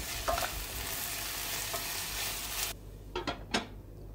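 Sautéed food with saffron being stirred in a pot, a steady frying sizzle with scraping stir strokes, then the sizzle drops away as the lid goes on, leaving a few soft clinks and knocks.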